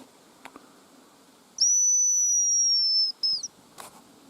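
A hazel grouse gives a thin, high whistling call in a forest, one sustained piercing note followed by a short second note, fairly clear against quiet background with faint rustles.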